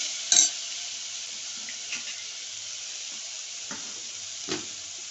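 Onion, tomato and ginger-garlic paste sauté in a pan with a soft, steady sizzle, broken by a few brief utensil knocks and scrapes while stirring.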